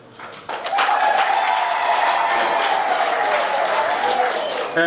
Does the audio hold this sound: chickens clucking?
no